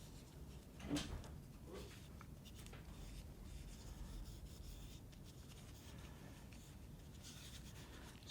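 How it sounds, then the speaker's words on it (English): A cloth rubs steadily across a small turned wooden nut bowl to lift off excess finish, giving a soft, continuous close-up scuffing with a brief louder knock near the start. "I'm just going to carefully wipe off any of that excess"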